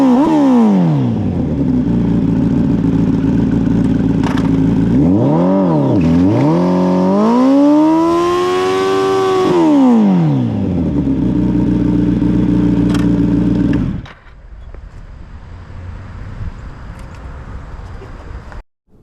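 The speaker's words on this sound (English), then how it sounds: "So that was the Kawasaki Ninja ZX-10R 2007." A 2007 Kawasaki Ninja ZX-10R motorcycle engine revs hard during a burnout, loud and close, the pitch climbing and dropping in repeated surges before cutting out to quieter rumbling and clatter.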